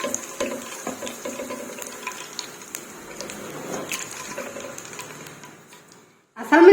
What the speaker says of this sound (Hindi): तो अब मैं इसमें डालती हूँ जीरा, जीरे को हम हल्का सा फ्राई करते हैं।